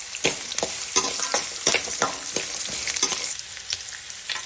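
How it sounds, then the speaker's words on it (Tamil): Onions frying in a pan for a goat blood fry are stirred briskly, a continuous sizzle broken by repeated scraping strokes of a spoon at an uneven, lively rhythm, close and fairly loud. "வெங்காயம் நல்லா வதங்கினதுக்கு அப்புறம் பச்சை மிளகா போட்டு நல்லா அந்த வெங்காயத்தை கிண்டி விட்டுருவாங்க"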